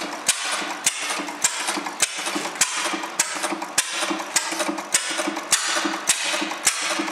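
An old Paulet stationary engine with an impulse magneto runs with sharp, evenly spaced snapping clicks about every half second over a steady mechanical chug, close and loud, with no talking.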